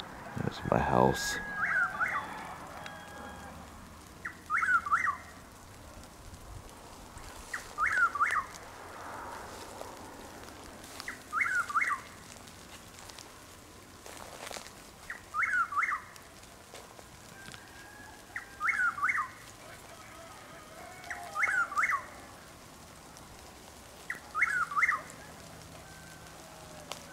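A Chuck-will's-widow calls repeatedly outdoors at night, its rhythmic three-part song recurring about every three seconds at moderate distance, with faint rain and insect background and a brief sharp knock near the start.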